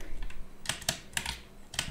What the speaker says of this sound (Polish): czasem już mnie tak denerwuje ta moja klawiatura